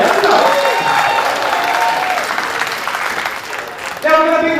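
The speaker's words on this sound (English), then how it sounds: "So please, again, give yourselves a round of applause." A crowd at a wrestling show applauds, a dense clapping wash under someone talking over a microphone, swelling again at the end.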